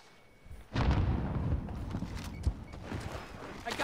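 A grenade blast in Call of Duty Warzone Rebirth Resurgence, a sudden heavy boom that cuts in after a quiet moment and rumbles on, with a second sharp thump a little later.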